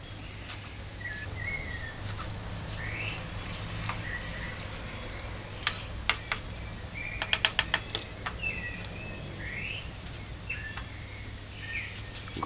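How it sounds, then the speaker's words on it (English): Knife dicing scallion on a cutting board: a quiet, steady background with scattered light taps, then a quick cluster of crisp chopping clicks near the middle before it thins out again. "Next, dice scallion."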